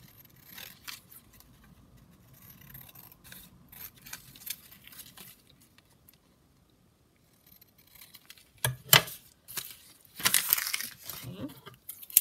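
Scissors cutting around a paper cigarette card for junk journal crafting, with faint intermittent snips and paper rustles, then louder crinkly cutting and scraping bursts near the end, close and without talk.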